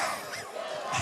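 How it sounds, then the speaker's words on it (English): Crowd noise from spectators at a 2023 Caruthersville vs Kennett high school football game, a loud, sustained roar of many voices chanting together, swelling near the end. "Now we have USA chants coming from the crowd."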